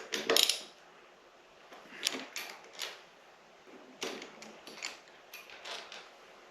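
Metal clicks and scrapes of a 6 mm Allen key loosening the bar riser bolts on a motorcycle, several short close taps and ratchet-like clinks spaced irregularly, no talking.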